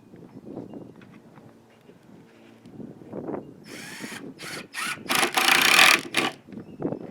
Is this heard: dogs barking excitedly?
no